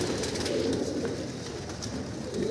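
A flock of pigeons kept for flying coo in a low, steady, overlapping murmur close at hand, with the soft burble running throughout and no voices.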